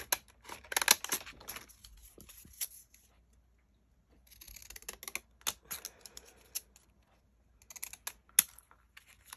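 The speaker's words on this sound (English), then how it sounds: "It's a little awkward to use your scissors upside down, but it's not impossible." Paper being cut with scissors held upside down while crafting notebook tags from 6x6 paper pads: bursts of crisp close snips and crunches, separated by quiet pauses, with no talking.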